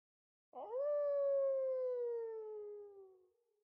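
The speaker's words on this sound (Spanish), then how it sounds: "es un aullido de endecha por los caídos" A single long, mournful wolf howl, rising quickly then holding a steady tone that slowly sags and fades over about three seconds, clear and alone with no other sound around it.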